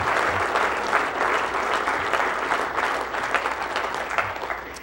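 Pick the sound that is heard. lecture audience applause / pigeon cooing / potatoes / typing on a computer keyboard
lecture audience applause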